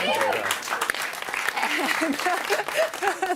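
A small group of people claps briefly and unevenly while voices talk and laugh over it in a close, informal setting.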